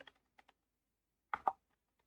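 Keys on a computer keyboard tapped while entering a command on a Windows PC: a few quiet, sparse clicks, then a louder cluster of two or three quick keystrokes, with no talking.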